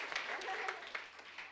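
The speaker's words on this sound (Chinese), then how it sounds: "我们给他鼓掌一下，欢迎他又来到跟我们一起来聚会" Congregation at a Sunday church service claps briefly to welcome a returning elder, a soft, distant patter of hands mixed with talk, quiet overall.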